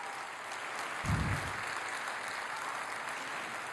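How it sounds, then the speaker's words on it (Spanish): Audience applause at a ceremony honouring writer Eduardo Sacheri as 2017 friend of popular libraries, a dense, steady clapping that fills the hall throughout, close and moderately loud with a brief low thump partway through. "Para él el aplauso y el reconocimiento."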